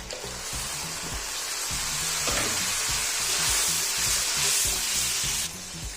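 Tomato puree hits a hot pan of chili masala made with Kashmiri red chili for chickpea curry and sizzles loudly. A steady frying hiss runs throughout, with repeated low scraping knocks from stirring.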